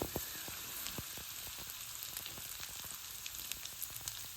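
Curry leaves and grated coconut crackle and sizzle in hot oil for a Kerala pumpkin erisseri, a continuous fizzing hiss dotted with sharp pops from nearby.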